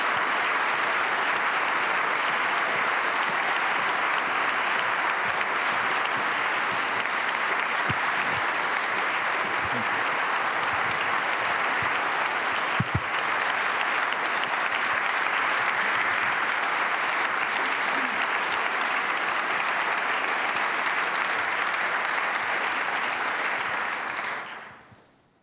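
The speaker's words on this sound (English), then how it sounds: "Please welcome with me, with a very warm applause, Rula Hardal and Dahlia Scheindlin" Sustained, dense applause from a theatre audience at the Berliner Ensemble in Berlin welcomes two guests onto the stage for a live talk event, holding steady and loud for about 24 seconds before cutting off abruptly.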